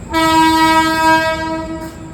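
A train's horn blares loud and close as the train pulls into Naihati Junction station, one sustained chord-like blast of about two seconds that fades slightly at the end.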